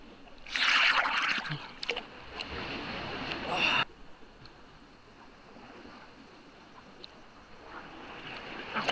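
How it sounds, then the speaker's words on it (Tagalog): Large sea waves wash in at a beach near Puerto Princesa, Palawan, with a loud surge and splash early on, then a steady, softer wash of surf and wind that rises slightly toward the end. "Kasi ang alon medyo malalaki."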